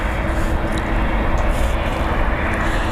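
A Sands Corporation VIP Airbus A340-500 jet at Heathrow Airport: a loud, steady broadband roar of jet engines fills the scene continuously with a dense rushing texture and no talking.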